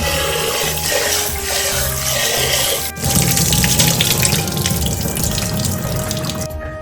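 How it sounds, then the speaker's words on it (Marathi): Water runs steadily from a tap with splashing and swishing as rice is rinsed, a brief clunk midway, then fuller rushing flow. "मी इथे अगोदर स्वच्छ तांदूळ धुवून घेणार आहे"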